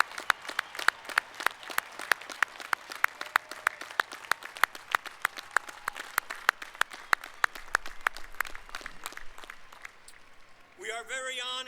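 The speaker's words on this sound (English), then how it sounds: "I ask our graduates to join me in applauding those who have helped make this day" A crowd at a university commencement ceremony applauds steadily with dense, sharp claps for about ten seconds, then the clapping fades and a voice begins speaking.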